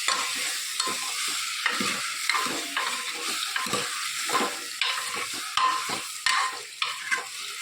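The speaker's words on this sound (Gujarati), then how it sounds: "સરસ આપણે બધું મિક્સ કરી લઈએ" A vegetable curry stirred in a hot pan, with steady scraping and spatula strokes repeating over a constant frying sizzle, close and fairly loud, with no voices.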